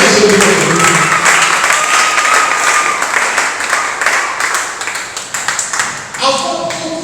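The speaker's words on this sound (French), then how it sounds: "Si tu as compris, acclame." A church congregation bursts into sustained applause, dense clapping from many hands filling the room, fading somewhat before voices come in near the end.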